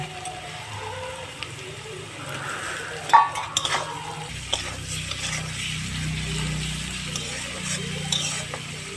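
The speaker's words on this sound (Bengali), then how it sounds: "এখন চিংড়ি মাছটা দেব দিয়ে ভেজে নেব" Shrimp dropped into a pan with onion, salt and turmeric for spinach stir-fry, a clatter of metal and utensils followed by a low rising sizzle and light stirring, close by.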